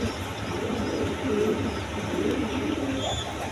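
A pair of king pigeons at a breeding farm coo softly in low, murmuring bursts over a steady background hum, with no speech.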